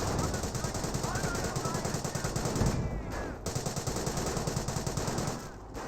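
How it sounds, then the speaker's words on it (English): Sustained machine gun fire in the World War II strategy game Company of Heroes, with Panzer Elite and British forces fighting; dense rapid bursts of gunfire rattle almost continuously, briefly thinning partway through. "They're shooting at us."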